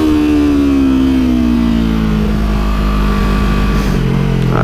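A Yamaha R3 sport motorcycle engine revs high and steady during a wheelie, its whining pitch sliding gradually downward as the revs drop, loud and close with no talk.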